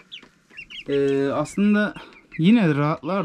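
Young chicks clucking and peeping in a new coop, loud and close, in repeated bursts, with a person speaking briefly alongside.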